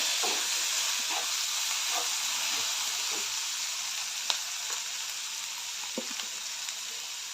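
Onion and tomato fry steadily in a pan with turmeric and salt, giving a continuous soft sizzle with a few faint stirring clicks and small pops, close and alone without talk.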